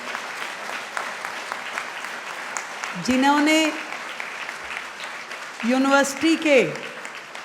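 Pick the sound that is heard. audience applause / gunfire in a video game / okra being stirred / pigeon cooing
audience applause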